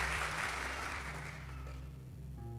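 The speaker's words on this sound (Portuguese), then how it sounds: "Quem acredita nisso, dê um aplauso bem forte ao Senhor." Applause from a church congregation, a steady broadband wash that fades gradually over a few seconds, with low organ or keyboard tones sustained underneath.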